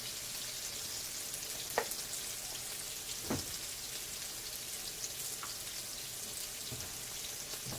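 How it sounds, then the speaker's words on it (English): Onion frying in a pan over medium-high heat, a steady soft sizzle with a few faint pops and crackles throughout, no voices. "And let that onion brown."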